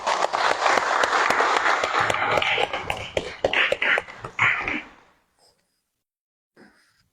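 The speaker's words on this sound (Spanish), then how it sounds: "Un fuerte aplauso para él." Audience applause at a book presentation, a roomful of clapping that starts full and dense, thins out into scattered claps and stops after about five seconds, followed by near silence.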